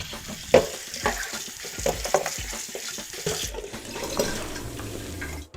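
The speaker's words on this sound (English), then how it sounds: "just using a strainer in the sink and my hands" Mushrooms are washed by hand in a strainer in the sink, with running water hissing steadily, wet rustling and handling, and occasional clunks against the strainer.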